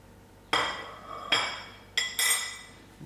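Four sharp knife chops on a cutting board, fresh green chilies being cut; each clear bright knock rings briefly, spaced unevenly and loud, with no talking.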